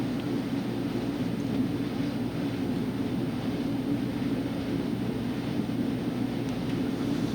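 A Republic Airways jet, formerly Shuttle America, rolls for takeoff at Boston airport, its engines making a steady, continuous roar heard from a distance without any talking.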